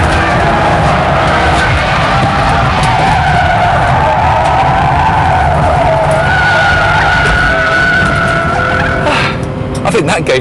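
Nissan Skyline R34 GT-R cornering hard on a test track, its tyres squealing and skidding in a long, loud sustained howl over engine drone, with a brief lift near the end.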